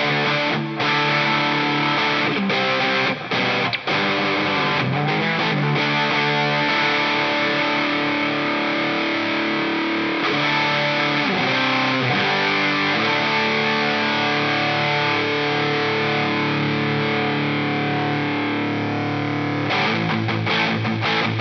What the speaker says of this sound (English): Let me go ahead and crank the distortion up to 12 o'clock and see what that sounds like.